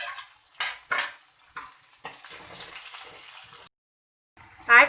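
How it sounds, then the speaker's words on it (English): Chopped onion and green chilies land in a pan and fry with bursts of sizzling and spoon scrapes, intermittent and fairly close, broken by a brief silent gap before the sizzle resumes. "Now I am going to add big onion, which is chopped onion, and then green chilies."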